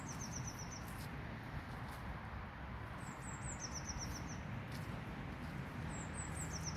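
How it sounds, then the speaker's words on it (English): Repeated high, thin bird chirps carry faintly over quiet outdoor ambience on a February walk through a nature reserve near Coalville, Leicestershire. "Lots of birds I can hear."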